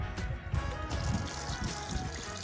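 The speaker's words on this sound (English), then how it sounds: "He's putting some water in there and he's going to make sure that this is level." Water trickles and splashes softly as it is poured into a spot to check that it sits level during outdoor spring chores, a steady low gurgle with no talk.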